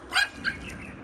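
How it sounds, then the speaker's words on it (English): A couple of short, high-pitched yips from a puppy on a street, quick and moderately close, followed by quiet background. "Oh, there's a little puppy here."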